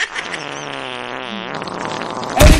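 A single long fart drones on with a wavering, buzzy tone for about a second and a half, fading into quieter rustling before a loud burst of noise at the end.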